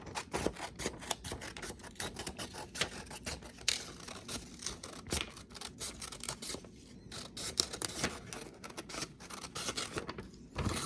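Scissors cut out a printed paper photo with a steady run of close, crisp snips and rustling paper, continuing unevenly throughout.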